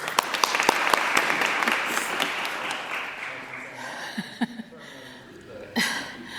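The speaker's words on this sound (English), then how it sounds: "Big clap for Sean, I think." An audience applauds in a grand hall at a school grand final, a dense clapping that is loud at first and gradually thins out, with a few coughs and scattered claps near the end.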